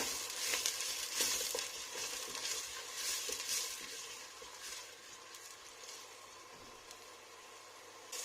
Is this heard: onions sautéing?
yes